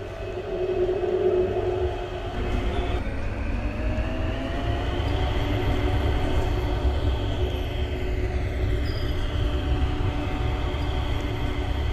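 A train on the Westwood Airport Transit line in a Roblox game pulls away from its platform, a steady loud rumble with a rising whine as it gathers speed, continuous throughout with no talk.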